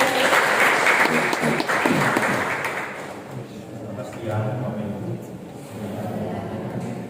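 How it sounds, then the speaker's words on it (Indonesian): An audience at a foundation's thanksgiving gathering claps loudly for about three seconds. The applause then thins and fades while a voice starts speaking over the tail of it. "Beri tepuk tangan yang luar biasa."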